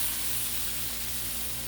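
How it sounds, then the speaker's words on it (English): Chicken steams under a dome on a Blackstone griddle, giving a steady, even hiss that holds at moderate loudness without break. "So we can steam the chicken a little bit"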